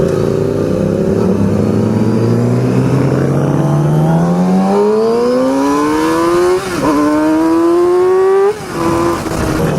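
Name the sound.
Yamaha R6 sport motorcycle engine revving at half throttle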